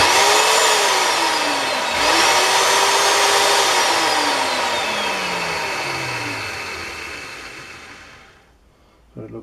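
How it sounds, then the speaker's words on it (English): Wolf 500-watt electric drill found in a garage clearance, its motor whining loudly with pitch rising and falling as speed changes, then spinning down and stopping near the end. "It's a 500 watt drill."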